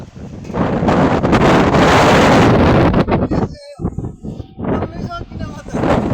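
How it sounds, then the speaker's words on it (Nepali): Strong wind buffets the microphone in loud, roaring gusts, then briefly drops before rumbling again with a few faint voices breaking through. "तर हावाहरू चाहिँ बबालै चलिरहेछ"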